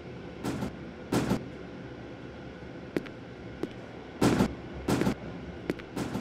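Train arriving in the horror game IMSCARED: a steady rumbling hum with repeated sharp clanks and bangs at irregular intervals, no talk over it.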